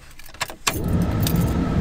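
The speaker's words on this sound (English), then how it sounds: "Go ahead, turn the key." Car keys jangle briefly in the ignition, then a car engine turns over and settles into a steady, close rumble.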